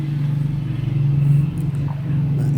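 Toyota Innova with a 2KD diesel engine, which has a low-power fault, revving close by, a steady heavy idle-to-rev drone that swells slightly midway and holds, loud and continuous.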